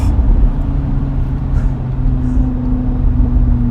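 A Lamborghini Huracan Spider engine drones steadily while driving, a low, fairly loud hum with no talk over it for a few seconds.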